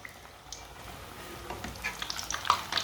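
Egg balls frying in plenty of oil, heard close up as a soft, building sizzle with scattered pops and crackles, growing louder toward the end.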